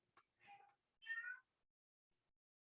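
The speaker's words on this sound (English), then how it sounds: "That's my cat in the background." A house cat meows faintly in the background, two short mews in quick succession and a tiny third squeak, heard alone in an otherwise quiet room.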